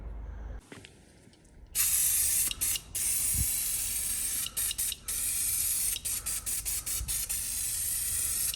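Industrial cleaner sprayed from a bottle onto a Hyundai Veloster's surface ahead of a vinyl wrap, a long loud hiss broken by short pauses between bursts, near and with no talking.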